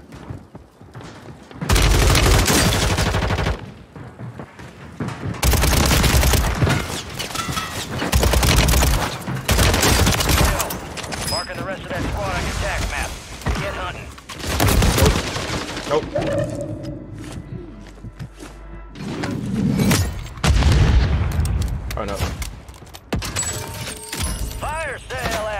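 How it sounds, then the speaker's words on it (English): Rapid bursts of automatic gunfire and booming impacts in Call of Duty on Rebirth Island, loud and close, coming in repeated volleys with short gaps and a player talking at times. "Where are they shooting me from, bro?"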